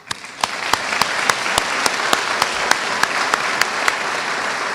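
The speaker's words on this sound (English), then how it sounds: "Let's give a round of applause to our faculty." Steady applause from a graduation audience honoring nuclear engineering faculty, a dense wash of clapping with a few sharp individual claps standing out throughout.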